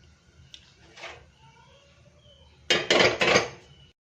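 A few light metallic clinks, then a louder clatter of a pot of water being set down on a stovetop to boil, close and brief, with no voices.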